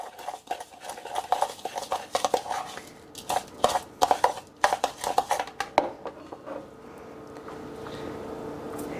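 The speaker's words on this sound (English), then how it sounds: "So I'm going to mix that well." Ingredients for a Parmesan-crusted poultry dish are mixed by hand in a bowl, producing irregular close clicks, taps and scraping strokes in bursts, then easing into a softer, steady rustle toward the end.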